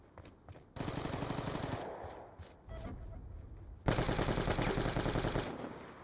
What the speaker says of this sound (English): That's wall banging. He banged that wall.